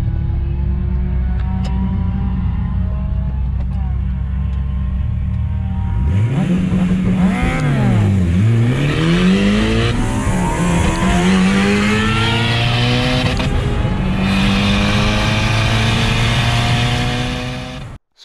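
A car races at high speed on a road, its engine loud and close, revving hard with pitch climbing and dipping through gear changes and a sharp swooping pass midway, running continuously with no talk.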